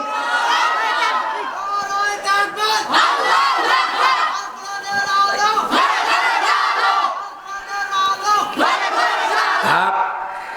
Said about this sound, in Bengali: একটা তাকবীর শুনতে চাই, দেখি।